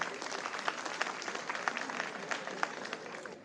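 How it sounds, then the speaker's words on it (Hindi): Audience applause at a Sacred Heart Degree College celebration in Sitapur, schoolchildren clapping in a thick sustained patter, fairly distant and soft with occasional sharper claps. "बार तालियां बजाइए।"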